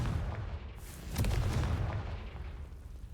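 Spell explosion from Confringo cast in a wizard video game, a single booming blast that swells and rolls out over a couple of seconds against low background rumble.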